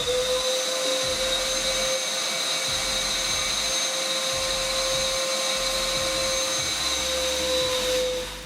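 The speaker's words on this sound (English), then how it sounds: "Let's see how long it will take the TACKlife PVC05B to suck it up." A TACKlife PVC05B wet/dry vac runs loud and steady close by, its motor whine holding constant while it sucks up water from a bucket, with gurgling slurps under the drone.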